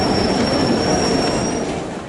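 Trains rumble through a busy railway station beside the Bandra slum in Mumbai, a loud, dense roar of wheels on rails with a thin, sustained high squeal, close and continuous throughout.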